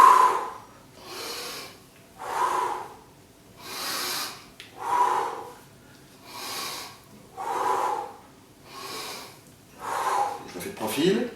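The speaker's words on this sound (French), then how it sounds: "J'inspire en descendant et j'expire en montant." A person doing squats as home fencing conditioning breathes in and out audibly, giving about eight loud, rhythmic breaths at even intervals. The breathing is close and heard alone.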